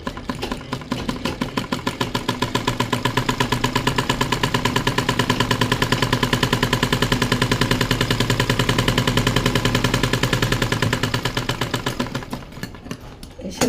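A sewing machine stitches a blouse in a fast, even mechanical rattle that runs steadily for most of the stretch, then slows and stops near the end.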